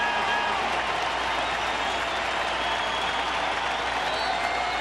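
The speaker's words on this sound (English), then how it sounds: "This crowd is into it tonight." A baseball crowd at a Twins vs White Sox night game cheers and applauds steadily, a dense, even roar of clapping and voices at moderate distance.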